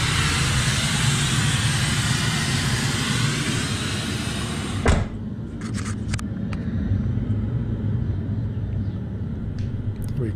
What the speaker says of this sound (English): The volume's still at 20 with the pink noise track.